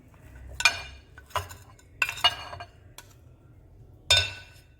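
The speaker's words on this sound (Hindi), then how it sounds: "और अब इसके बाद हम डालेंगे इसमें ये गोश्त।" Pieces of mutton drop into a pot with ginger-garlic paste in a home kitchen, giving several sharp clinks and clatters of metal and meat against the vessel at irregular intervals, close and fairly loud with no talking.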